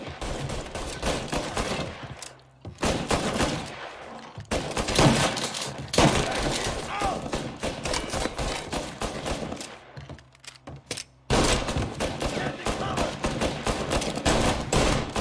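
Repeated gunfire bursts and machine-gun volleys in Mafia Definitive Edition, loud and dense, broken by short pauses of near quiet before the firing resumes.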